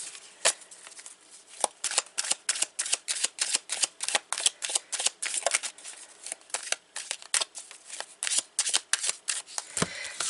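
Lenormand cards being shuffled and mixed, a steady run of crisp riffling slaps and flutters repeating quickly and close for about ten seconds, with no talking.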